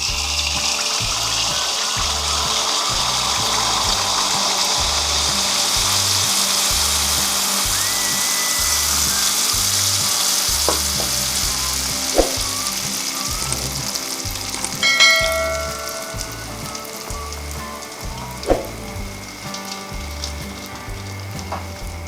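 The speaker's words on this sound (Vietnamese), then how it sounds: "Mình thử thấy dầu đã sôi quanh đũa, mình sẽ đổ bánh vào chiên." Batter poured into hot oil for bánh tai yến sizzles loudly and continuously, a dense crackling hiss that carries on with a few brief clinks of utensils, and no talk.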